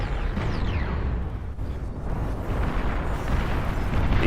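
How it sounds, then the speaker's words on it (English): Artillery shells pummeling tier 3 units in the strategy game BAR, a rolling, continuous rumble of heavy booms and blasts with a few whistling incoming rounds near the start, steady and loud throughout. "Blue still has some tier 3 units out, but nobody's taken them, so they're just getting pummeled by artillery."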